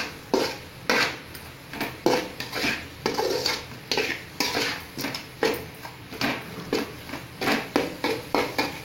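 Cauliflower rice being stirred in a pan for cauliflower chilli rice, a spoon scraping and clinking against the metal in a steady, repeated rhythm of short strokes, close and clear with no talking.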